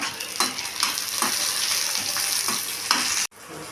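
Bottle gourd and tomato sizzle and fry in a hot pan, a steady crackling hiss broken by periodic stirring scrapes, close and loud, then a sudden brief cut near the end.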